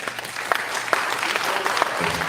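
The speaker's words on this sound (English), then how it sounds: "Please hold applause." Audience applause at a district attorney candidates forum in Norfolk County, a steady wash of clapping with scattered sharper claps, fairly close, with some voices mixed in underneath.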